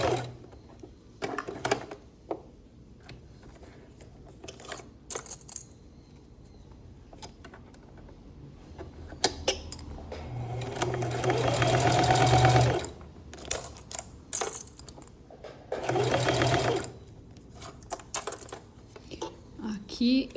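A sewing machine stitches a children's multipurpose case, its needle running in two sustained bursts of rapid mechanical whirring, separated by pauses with clicks, handling and someone speaking Portuguese.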